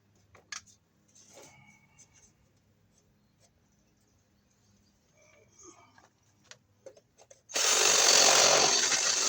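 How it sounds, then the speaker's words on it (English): A power drill whirs loudly for the last couple of seconds, enlarging a hole in PVC conduit for an outdoor outlet, after quiet handling clicks and light tapping. "Okay, I have to drill that out a little bit more."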